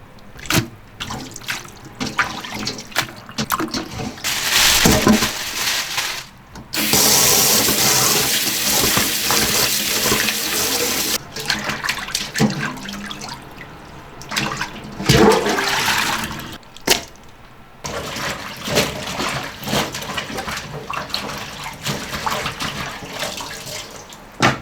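Raw chicken is washed under running water, a loud, continuous splashing rush that surges and stops several times, close by in a home kitchen with no talk.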